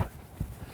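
Hoofbeats of a horse trotting, a few dull thuds spaced unevenly across a short moment, fairly close with a soft background.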